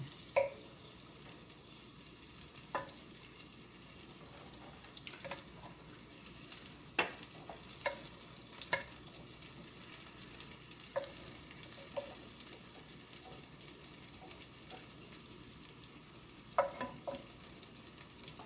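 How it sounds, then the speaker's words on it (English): Bacon frying in a pan for homemade tomato gravy, a soft continuous sizzle and crackle with occasional utensil clinks and scrapes, close and fairly quiet, with no talk. "I'm gonna tilt my pan to the side and keep my bacon pushed to the corner so I can drain all that bacon grease"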